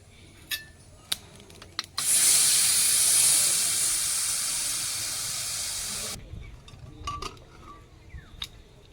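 A lid is lifted from a pot of mutton soup and steam bursts out in a loud, steady hiss lasting about four seconds, framed by a few light clinks of metal before and after.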